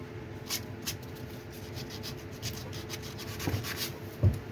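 Soft, steady rubbing of sandpaper or a hand tool smoothing the lips and eyes of a carved wooden girl's face, close and fairly quiet, with a couple of light knocks near the end.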